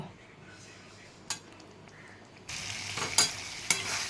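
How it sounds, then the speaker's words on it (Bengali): Spice paste and potatoes fry in a pan for a potato and catla fish curry, starting as a soft simmer, then swelling into a louder sizzle, with sharp utensil clinks against the pan. "এবার এটা কষতে থাকুক"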